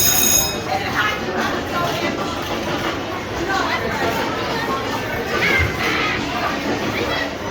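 Riding the Adventure Express mine train roller coaster at Kings Island amusement park, with a steady rumbling ride noise and clattering track sounds throughout, and voices faintly mixed in.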